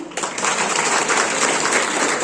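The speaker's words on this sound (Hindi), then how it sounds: "एक बार सभी प्रतिभागियों के लिए तालियां" Applause for the participants of a school speech competition, a dense, steady wash of many hands clapping that starts abruptly and continues at full strength throughout.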